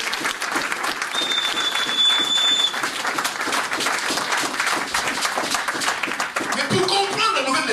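A church congregation applauds loudly during a French-language sermon, the clapping dense and steady for about eight seconds with some voices mixed in.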